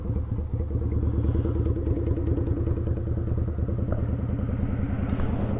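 A Yamaha Virago XV250 custom bobber motorcycle with custom exhaust and pod filters runs close and loud, its engine holding a steady, continuous throbbing note with a slight clatter, and no talking.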